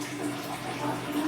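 Bathroom water tap running in a steady, soft stream of water, heard briefly on its own.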